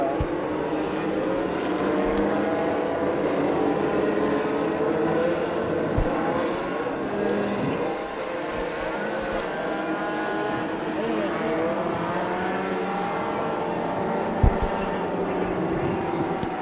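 Sport trucks race around the oval at Wisconsin International Raceway, a steady loud roar of multiple engines droning together throughout, with a commentator talking over the field.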